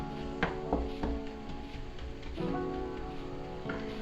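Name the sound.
sausage sizzling in a frying pan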